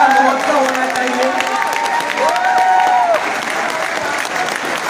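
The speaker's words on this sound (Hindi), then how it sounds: "तालियों का महोत्सव होना चाहिए।" An audience applauds at a poetry event, with sustained, fairly loud clapping from a crowd and voices carrying over it.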